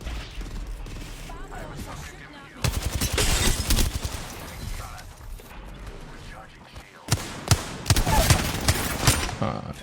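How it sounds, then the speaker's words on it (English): Charge rifle gunfire in a first-person shooter video game, with two bursts of sharp, loud, rapid shots separated by quieter stretches of game noise, alongside bits of talk. "I shot 3 charge rifle shots at him"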